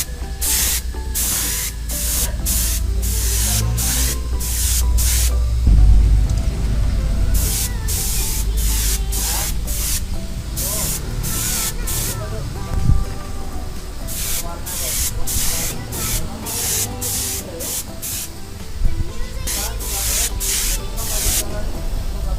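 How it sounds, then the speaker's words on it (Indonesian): Spray gun laying a thin first coat of epoxy primer onto a motorcycle body panel, heard as repeated bursts of loud close hissing spray separated by brief pauses, with a low mechanical rumble beneath. "Untuk lapisan dasar ini adalah epoksi ya. Sekarang langsung gua semprot."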